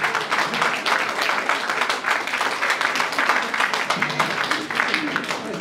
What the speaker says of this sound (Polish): Szygielski, Kasper Magnuski, Jakub Kotowski, wielkie brawa na nich, kochani.